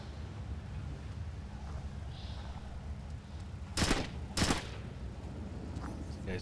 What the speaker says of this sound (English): These guys test shooting their new guns.